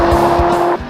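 A Ferrari California's engine roars loud and close under hard acceleration, holding a steady strained tone for about a second before it drops off sharply at the end.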